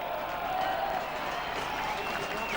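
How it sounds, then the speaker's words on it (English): A crowd applauds from the far side of the ground at a Batley v Keighley rugby league cup match, a steady wash of distant clapping that holds evenly throughout with no break. "the crowd at the far side there just giving Mark Milner a round of applause for his work in that try"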